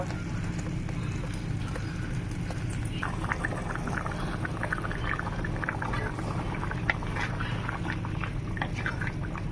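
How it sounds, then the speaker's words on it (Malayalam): Chicken curry poured into a saucepan in a new home kitchen: a steady bed of low sizzling and bubbling, with wet splashing and spattering that picks up after a few seconds and continues close by to the end. "നമുക്ക് കറി ഇതിനകത്തോട്ട് ഒഴിക്കാം കേട്ടോ ഈ ഒരു സോസ് പാനിലോട്ട് കറി"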